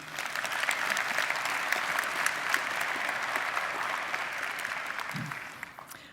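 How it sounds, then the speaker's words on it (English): A church congregation claps together in a steady, dense wash of applause that holds at moderate volume, then thins and fades toward the end. "You did clap for yourself just then"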